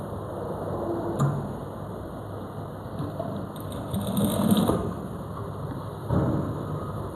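Sewing machine stitching salwar pant fabric, a steady close mechanical ticking and whirring that runs throughout, with a few brief louder surges.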